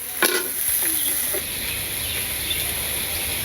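Oil sizzles steadily in a pan in a village kitchen, a continuous hiss with a few brief clinks and stirring sounds near the start, close and moderately loud with no talking.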